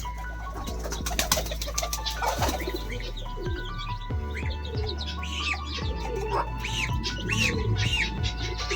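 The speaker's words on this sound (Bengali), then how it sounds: "এই তো কবুতরকে খেতে দিছি, আর এই তো সাথে মুরগি, এই যে মুরগি খাচ্ছে" Pigeons and chickens, chicks among them, feeding together in a morning pigeon loft in Rajshahi. Steady chirps, coos and squawks from many nearby birds, with a few sharp taps and flutters and no speech.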